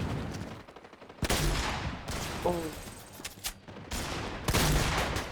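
Gunfire in the Fortnite video game: bursts of shots ring out in clusters amid loud game noise, with a sharp volley near the start and another toward the end.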